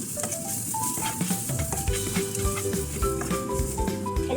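Masala with salt is stirred and sautéed in a pan, giving a continuous soft sizzle with scraping strokes of the spoon, close up, under steady background music.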